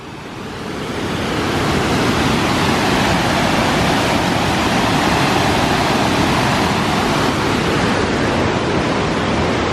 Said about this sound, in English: There's another waterfall.